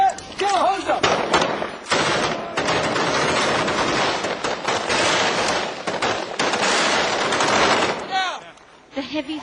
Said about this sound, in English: Slow on M16s, like 2 bursts